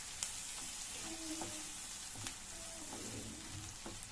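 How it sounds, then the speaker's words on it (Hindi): Finely chopped onions cooking in melted butter, a faint, even sizzle with a few soft stirring taps. "जैसे ही बटर मेल्ट हो जाए हम उसमें ऑनियंस जिनको चॉप किया था फाइन, उसको इसमें ऐड कर देंगे"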